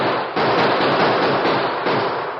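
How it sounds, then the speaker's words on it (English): A dense, loud burst of rapid gunfire from a 1948 Lone Ranger radio drama crackles continuously, with a brief pause near the start before the volley resumes. "The sudden gunfire caught the Indians by surprise."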